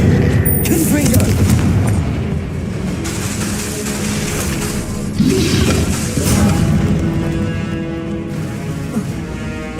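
Blasting spell explosions burst from a wizard's wand in Hogwarts Legacy, several loud booms and crackling impacts in quick succession amid combat noise, with talking over the fight.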